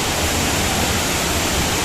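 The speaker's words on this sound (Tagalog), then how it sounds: "So, dito lumabas yung mga tubig galing sa falls." Water from Mag-Aso Falls rushes in a dense, even roar, close and loud throughout the brief moment.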